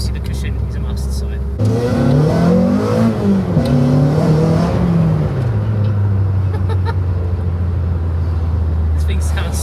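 A track-focused Renault Clio RB revs hard, its engine note climbing and falling loudly through the upper rev range before settling into a steady drone, with a voice speaking under the engine.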